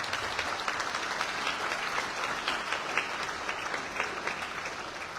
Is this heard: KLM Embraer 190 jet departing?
no